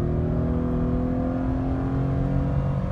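A Nissan Murano CrossCabriolet with a CVT pulls steadily under acceleration, its engine holding a smooth, continuous drone without gear shifts, heard from inside the car.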